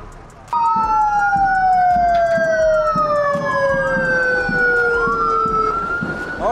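A marshal's vehicle siren wails loudly and up close at the Borneo Safari 2022 off-road event flag-off, its pitch sweeping up and down continuously over a rumbling engine and crowd background, with people talking faintly.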